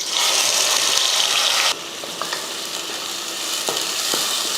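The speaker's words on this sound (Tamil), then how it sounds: "நல்லா பொன்னிறமாக வதக்கலாம்." Ground small shallots sauté in hot oil with spices and curry leaves, giving a loud, dense sizzle. The sizzle drops to a softer, steady frying hiss partway through, with a few light stirring clicks and taps.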